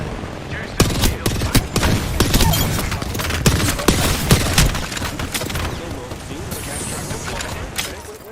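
Rapid gunfire from the knuckle cluster, a fictional weapon in a movie, rattles in dense bursts of sharp, loud shots for several seconds, with speech mixed in among the blasts.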